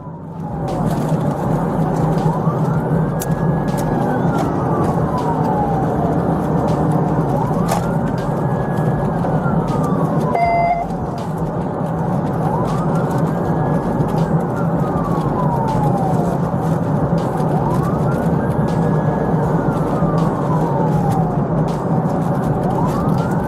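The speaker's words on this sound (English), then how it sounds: "A pursuit began with lights and sirens activated." A police car's wailing siren rises and falls repeatedly during a pursuit over loud, steady engine and road roar from inside the moving vehicle, with a brief burst of higher tones midway.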